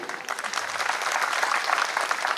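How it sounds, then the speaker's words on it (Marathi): A crowd applauds loudly and continuously at a police training passing-out parade, dense overlapping claps filling the whole moment. "जोरदार टाळ्या होऊ दे।"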